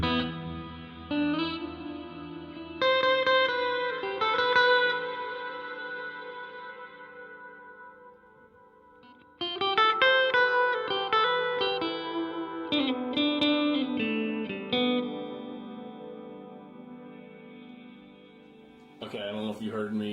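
Electric guitar played through a Donner two-in-one reverb and delay pedal as its tone knob is turned, chords and single notes ringing out with long echoing tails, pausing briefly before resuming with shifting brightness.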